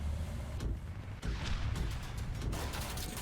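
Heavy tank cannon booms in War Thunder thud out several times over a continuous rumbling background, deep and loud with short decays.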